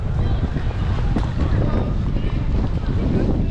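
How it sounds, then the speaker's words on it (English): Strong wind buffets the microphone in an old town square in Krakow, Poland, with a constant low rumble and roar, steady throughout with no clear breaks. "A bit windy, unfortunately."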